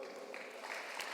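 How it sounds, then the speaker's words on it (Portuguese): A church congregation bursts into applause, a dense continuous patter of many hands clapping, fairly loud and unbroken for the whole moment. "Você pode aplaudir bem forte?"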